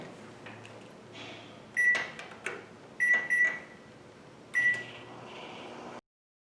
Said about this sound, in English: So we're going to put this in the microwave.